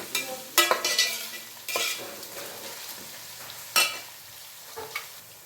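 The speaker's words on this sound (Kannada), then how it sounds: "ಎಣ್ಣೆನಲ್ಲಿ ಫ್ರೈ ಆಗಲಿ ಈರುಳ್ಳಿ" Onions frying in oil in a pan for vangibath, with a continuous sizzle broken by several loud spatula scrapes and knocks against the pan, close up.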